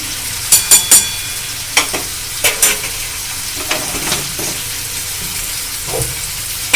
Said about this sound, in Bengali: এবার এটাকে আমি খুব ভালো করে কষে নেবো আলুটাকে